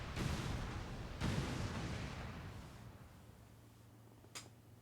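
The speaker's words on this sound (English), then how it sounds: "Detonating charges." C4 charges detonate in the video game XCOM 2, two deep booming blasts in quick succession that rumble and slowly fade, followed by a small sharp click.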